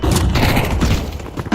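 A flashbang grenade going off in a Counter-Strike 2 match: a loud, dense burst with a heavy thud and rumble, holding steady, then easing before a short final thump.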